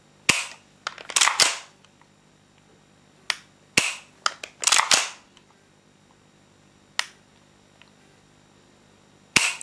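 Trigger clicks from a tan Tokyo Marui MP7A1 airsoft gas blowback gun come as sharp, close mechanical snaps, some single and some in quick clusters, spread irregularly over a quiet background.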